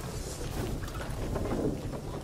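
Rain and rumbling thunder effects from the Torrential Rain card in the video game Thronebreaker: The Witcher Tales, a steady, dense wash of noise lasting a couple of seconds with no talk.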